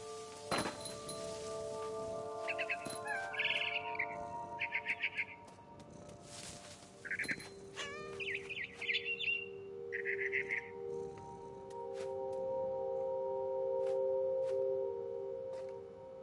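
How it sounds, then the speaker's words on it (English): A frightened bird in the video game What Remains of Edith Finch lets out short bursts of high chirps in two clusters, over a steady hum and occasional soft thunks. "I tried to be quiet, but the bird was really scared."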